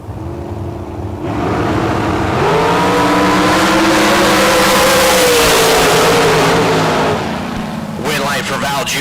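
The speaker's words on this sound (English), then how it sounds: "Out of Chino, a TNT Supercar for Val, 472 the number." A drag racing supercar, a TNT Supercar at a bracket race, roars down the strip with a loud rising engine note that swells, holds and then drops away, as an announcer talks over it.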